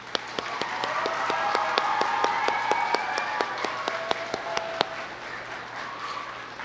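A small gathering claps to welcome the mayor, with distinct individual hand claps ringing out over a soft murmur of applause that thins out after about five seconds, fairly close and moderately quiet.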